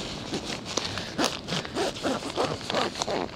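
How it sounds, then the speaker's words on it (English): A zipper is pulled along a packed kiteboarding bag in several short, scratchy strokes, close up, with faint rustling between pulls. "when you're compressing a bag like this and you're zipping it"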